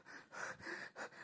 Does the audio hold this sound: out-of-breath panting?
yes